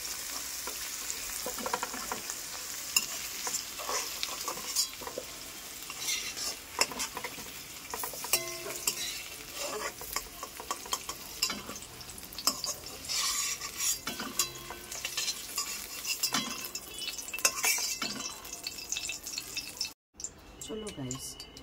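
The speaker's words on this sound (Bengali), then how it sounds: "এঁচোড়টা আমি ভেজে হালকা করে ভেজে তুলে নিচ্ছি" Young jackfruit pieces frying and sizzling in hot oil in a home kitchen, with a utensil stirring and clinking against the pan in an irregular rhythm, close and fairly loud, ending in a brief cut to silence.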